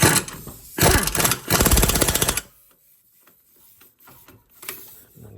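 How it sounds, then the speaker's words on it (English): Air impact gun tightening the brake caliper carrier bolt on a Lexus CT200h, two loud rattling bursts up close followed by quieter workshop clatter. "Just gonna tighten it back with my air gun."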